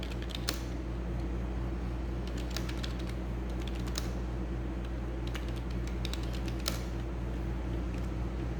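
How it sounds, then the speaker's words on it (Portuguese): Someone types on a computer keyboard in a Windows lesson while writing a document, a steady run of close key clicks with several sharper, louder strikes over a constant fan-like hum, no voices. "você está digitando um trabalho"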